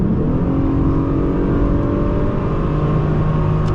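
A 2003 Hyundai Sonata with a 2.7-litre V6 accelerates, its engine giving a loud, steady droning growl heard from inside the car, with rising tones and no pause.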